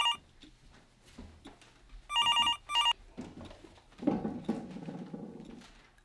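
A telephone ringing in a room, two short bursts of electronic bell rings in quick succession over light background patter and rustling.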